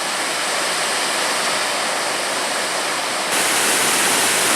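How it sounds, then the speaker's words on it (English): Steady, dense roar of falling water, broad and unbroken, like a waterfall heard close by with no voices, at Gooseberry Falls State Park on the Superior Hiking Trail. "And there's a waterfall."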